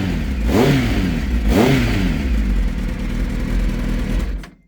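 A Kawasaki ZX9R motorcycle engine idles loudly and close, rising in two sharp revs early on, then runs steadily before cutting off at the end; started without the choke after sitting unused for a year.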